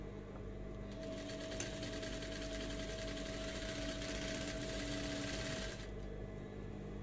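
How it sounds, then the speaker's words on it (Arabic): Sewing machine stitching children's flared trousers, running steadily at a fast even pace for about five seconds, close and clear, with no talking. "ابتدي اخيط"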